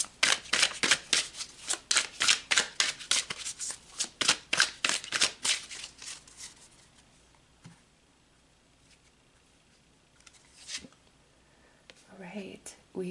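Tarot cards are shuffled in rapid, rhythmic riffles for about six seconds, close and crisp, followed by quieter card handling as cards are pulled, with a soft voice speaking.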